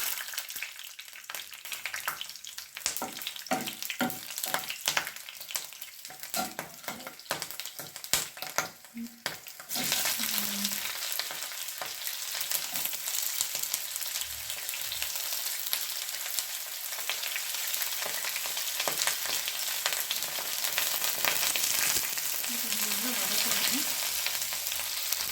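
Spices and green chilies fry in hot ghee in a pan for basmati rice biryani. Scattered crackles and stirring clatter give way to a steady, loud, close sizzle that continues unbroken.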